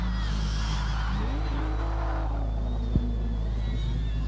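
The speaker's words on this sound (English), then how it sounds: "Bill Davis now making his way to the top of the hill in the AU XR8" Ford AU XR8 with a 5-litre Windsor V8 climbing a hillclimb course, a moderately distant engine note rising and shifting in pitch with a low rumble underneath, a brief thump near the end.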